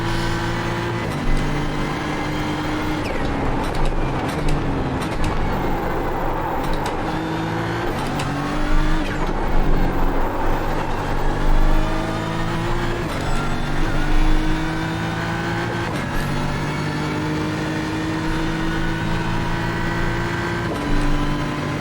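BMW M4 GT3 race car engine at Imola in iRacing, a loud steady drone with rising and falling harmonic tones as it revs through gears, continuous and close throughout with no talking.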